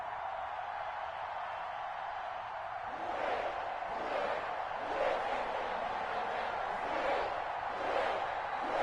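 Stadium crowd noise in an EA Sports NFL video game, Ravens versus Bengals, a broad steady roar that swells louder with surging cheers midway and stays fairly distant.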